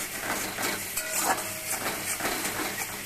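Fish being sautéed with ground mustard and turmeric powder, a steady broadband sizzle with soft stirring scrapes throughout, close and moderately loud with no voices.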